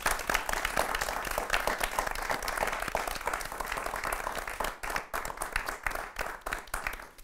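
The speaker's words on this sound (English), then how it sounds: "I would like to finish with a round of applause for Kurt" A roomful of people gives a round of applause for BBC presenter and Middlesex professor Kurt Barling, sustained dense clapping that thins slightly toward the end, with no talk over it.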